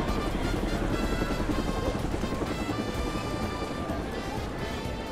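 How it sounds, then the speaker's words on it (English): A helicopter in the Final Fantasy VII Rebirth video game drones with a steady, loud rotor rumble that fills the whole stretch, dense and unbroken. "The helicopter was like, hello, shaking."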